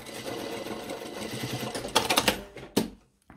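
A sewing machine runs steadily while stitching a seam in fabric for a shorts outfit, its motor whirring continuously before several short bursts and a final quick stop, close and clear with no talk.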